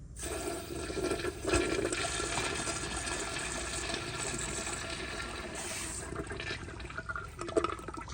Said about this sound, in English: here's another flush with a small rock